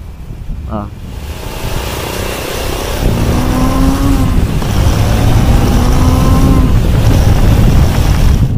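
A Triumph Speed 400 motorcycle engine runs at high RPM on a long ride, a steady loud drone with rising rev sweeps and vibration, continuous throughout under wind noise, with a voice talking over it.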